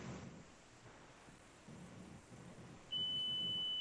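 An ammunition reloading setup's powder dispenser gives a steady, continuous electronic beep that starts near the end and holds without a break over a faint background hiss.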